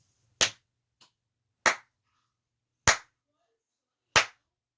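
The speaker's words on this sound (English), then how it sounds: "now we're going to clap" Hands clapping a slow, steady rhythm in a music lesson: four sharp, evenly spaced claps with a faint tap between the first two, each crisp and close against silence.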